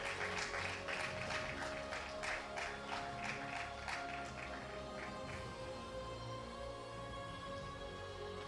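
Applause breaks out for a woman who won a bronze medal and prize money at a national restructuring conference, a dense steady clatter of many hands that gradually thins toward the end, with no talk over it.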